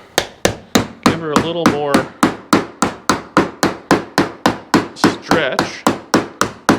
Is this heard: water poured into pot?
no